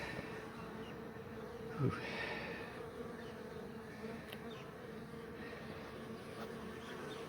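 Honeybees swarm and buzz steadily around a hive being cut out of a chimney and relocated, a dense, continuous drone close by with a brief murmured exclamation.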